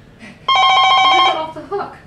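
Telephone bell rings once in a short, bright burst of harmonic trilling lasting under a second, fairly close and loud, with faint voices just before and after.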